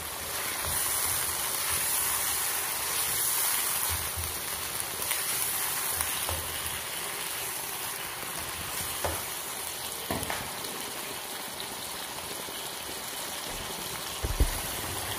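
Onions and tomatoes sauté in a pan with finely ground ginger and garlic paste for a restaurant-style chicken handi, giving a steady, close sizzle with a few soft knocks and clinks throughout.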